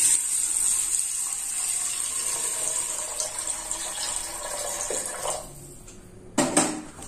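Thin second coconut milk poured into a pan of parippu payasam, a steady close gushing stream that thins out, followed by a brief clatter of the vessel near the end.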